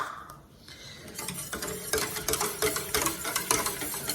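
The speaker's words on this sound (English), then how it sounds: "I'm going to cook this stirring constantly until it thickens" Milk and cornstarch mixture stirred steadily in a pot, a utensil scraping and ticking against the metal in a quick continuous rhythm, close and moderately loud with no voices.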